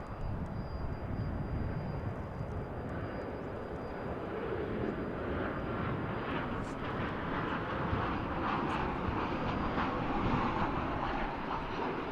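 An American Airlines jet in AirCal heritage livery passes at DFW International Airport, its engines a loud, sustained roar with a thin high whine over the top that holds steady throughout.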